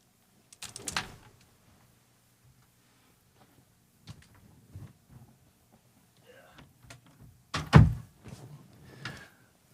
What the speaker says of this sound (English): I'll close this door.